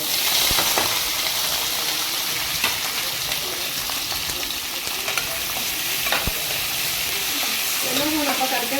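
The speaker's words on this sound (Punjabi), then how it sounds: "ਤੇਲ ਗਰਮ ਹੈ ਹੁਣ ਆਪਾਂ ਤੇਲ ਦੇ ਵਿੱਚ ਪਾ ਦਿੰਦੇ ਆ" Soya chaap frying in hot oil in a pan over medium gas, a steady bright sizzle with occasional stirring clinks and scrapes, close and continuous, with a voice speaking faintly at times.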